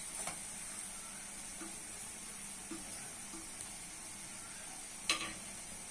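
Onion and ground spices (turmeric, cumin, coriander, chilli, salt) frying in hot oil, giving a faint steady sizzle with a few light stirring taps and one sharper clink near the end.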